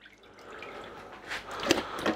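Water pours and splashes into a pot for a bone broth, a soft running gurgle with brief drips and splashes, close by.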